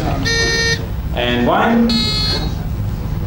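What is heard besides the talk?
quiz show contestant buzzer being tested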